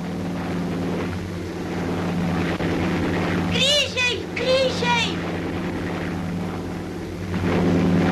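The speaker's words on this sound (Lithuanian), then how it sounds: "Mikai, žiūrėk lėktuvai." Propeller airplanes fly overhead with a steady, broad engine drone that lasts throughout, while people briefly talk midway over the noise.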